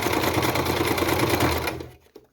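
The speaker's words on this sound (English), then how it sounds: "So what I'm gonna do now is I'm going to sew" A sewing machine runs a zigzag stitch over cord, a rapid even mechanical chatter close and loud for about two seconds before slowing and stopping with a few soft clicks.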